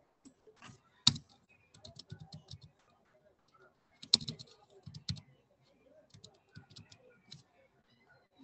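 A computer keyboard is typed on in scattered bursts of quiet key clicks with a couple of louder thumps and short pauses between, close up and soft, with no voices.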